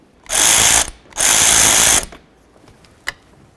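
A ratchet loosens a T30 bolt on a Ford Mustang door in two loud, rapid clicking bursts close by, followed by a quiet pause and a single small metallic tap.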